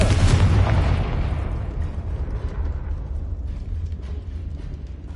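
A Confringo spell explosion in the Hogwarts Legacy video game opens with a loud blast, then a long rumbling decay that fades slowly under faint mechanical clatter.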